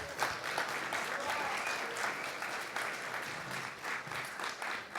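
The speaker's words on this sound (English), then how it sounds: "One more round of applause for Tim." Fairly quiet, distant-sounding audience applause at a live venture capital debate, uneven clapping from a modest crowd with a few individual claps poking out and some faint background murmur.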